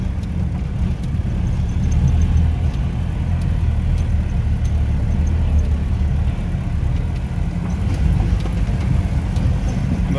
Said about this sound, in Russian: Да, шикарно, мотор работает.